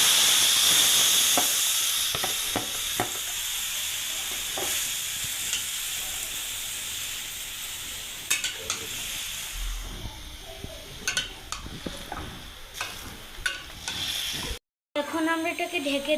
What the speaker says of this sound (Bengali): গোশতকে কষিয়ে নিব